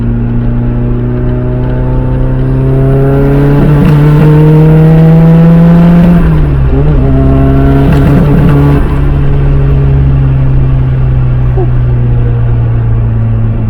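A loud, deep modified Nissan S13 Silvia engine drones close by, its exhaust note rising in pitch as it revs, dipping briefly, then holding a steady rumble.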